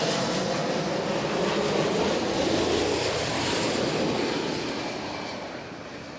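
A WestJet Boeing 787-9 airliner at London Heathrow gives off a loud, broad jet roar that holds steady and then slowly fades as it moves away.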